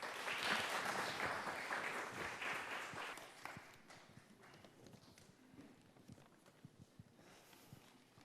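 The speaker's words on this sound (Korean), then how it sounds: "다시 한번 김 회장님께 수고와 격려의 박수를 부탁드리겠습니다." Applause from a small audience at a May 18 Democratic Movement memorial ceremony in Maryland for the organizing association's president, louder at first, then thinning into sparse scattered claps and faint shuffling.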